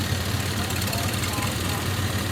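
An antique Z Universal tractor runs in a machinery parade, its engine a low, steady idling rumble throughout while an announcer talks over it.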